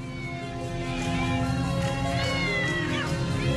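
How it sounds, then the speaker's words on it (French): Cats meowing over a steady low background drone, the calls rising and falling faintly through a few seconds in a deserted urban setting without people. "on voit apparaître des chats."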